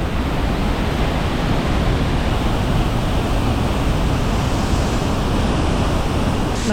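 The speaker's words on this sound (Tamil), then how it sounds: "எவ்வளோ அப்படியே தண்ணி அப்படியே மேலேருந்து கொட்டி ஸ்மோக் அப்படியே அள்ளுது பாருங்க" Water pours heavily down Hogenakkal waterfall, a loud, unbroken roar of rushing spray that holds steady throughout with no voices.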